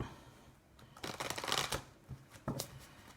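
Tarot and oracle cards being shuffled by hand, soft papery riffles and slides in a few uneven bursts, close and fairly quiet, with no talking.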